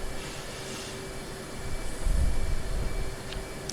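A video-game aircraft engine spools up for takeoff, a steady moderate drone that swells and deepens into a louder low rumble partway through.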